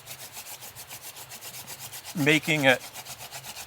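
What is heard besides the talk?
wooden hand drill spun for making fire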